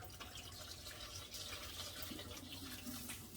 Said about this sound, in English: Basically just enough water to cover the potatoes for the most part.